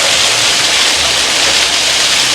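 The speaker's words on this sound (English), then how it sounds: "It's raining ice." Hail pours down in a hurricane, a loud, dense, unbroken roar of ice striking surfaces close by, with no pauses and no talk over it.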